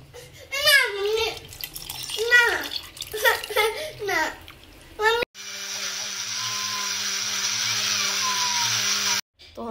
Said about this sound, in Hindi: जहाँ पे हमने मैंगो ग्राइंड किया था उसी जार में अब इसको ऐड करके हम इसको भी मिक्स कर